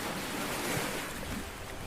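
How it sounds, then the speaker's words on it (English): Ocean waves wash onto a beach in a steady, broad roar of surf that fills the whole stretch, with some wind rush mixed in and no voices. "Can you hear the waves?"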